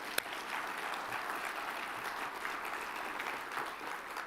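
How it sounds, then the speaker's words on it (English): An audience at the 2026 State of Indian Nations address applauds, producing a steady, full round of clapping from a sizable crowd that holds evenly throughout. "So let's give them another round of applause."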